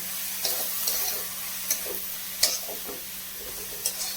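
Vegetables being mixed with a spoonful of soy sauce for a grilled pizza sandwich, giving soft intermittent scraping and stirring clicks over a low steady hum, moderately close, with no talking.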